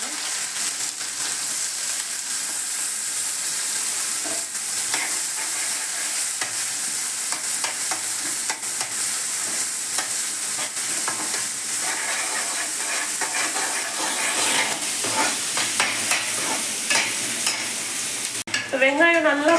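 Onions fry in a pan while being stirred, giving a steady, fairly loud sizzling hiss with occasional scraping. A brief different sound comes in at the very end.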